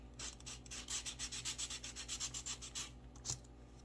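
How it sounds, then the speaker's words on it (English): Wooden pieces with freshly cut ends being sanded by hand, a steady series of about a dozen rhythmic rubbing strokes, close and fairly quiet, with no talking. "Give them a little sand."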